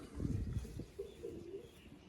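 A pair of pigeons, male and female, coo softly at close range, a couple of low murmuring calls after a brief rustle, fairly quiet.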